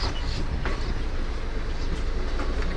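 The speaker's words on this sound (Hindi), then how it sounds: "बिल्कुल सही से अपने समय से निकलती हुई हमारी Corbett park Ranikhet express train Marwar junction से" The Corbett Park Ranikhet Express pulls out of Marwar Junction with a constant, loud rumble of rail cars rolling on track and faint rattles over the top.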